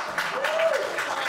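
A brief burst of clapping from a comedy club audience during a stand-up set in North Hollywood, a short dense patch of applause with a faint voice threaded through it.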